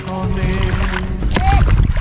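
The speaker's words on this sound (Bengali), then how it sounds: "ওকে এখন নৌকা বাইতেছি" Water sloshes and splashes steadily as a boat is rowed across a water-lily wetland in Bangladesh, with a low rumble underneath and a faint voice in the background.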